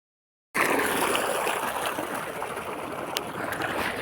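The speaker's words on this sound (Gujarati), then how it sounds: "શાકભાજીમાં પાણી જાય છે ગાઈસ." Water from a motor pump rushes steadily into a vegetable field of mung bean plants, a continuous close, loud gushing that begins abruptly and holds without a break.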